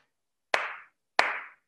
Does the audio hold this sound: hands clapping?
yes